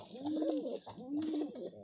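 Pigeons coo softly nearby, giving two rounded, throaty coos one after the other in a quiet setting.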